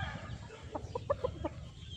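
A two-year-old Boston White gamefowl rooster gives a short burst of soft, close clucks, a quick series of about half a dozen notes over a quiet background.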